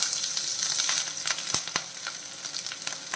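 Mustard seeds spluttering in hot oil at the start of an egg curry, with ginger and green chilli nearby; a steady close sizzle broken by sharp pops and a couple of louder crackles, no voices.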